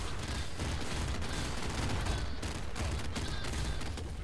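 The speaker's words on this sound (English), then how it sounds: "I just never stop firing, but I never run out of ammo." Continuous gunfire in the video game Nuclear Throne, a dense, unbroken barrage of overlapping loud shots and blasts with no pauses.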